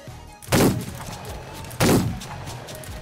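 Two loud Lancaster pistol shots fired in Roblox The Wild West, each a sharp crack with a short decaying tail, spaced about a second and a half apart over faint game ambience.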